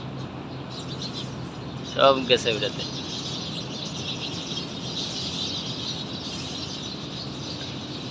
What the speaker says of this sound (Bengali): আয় হায়, কত পাখি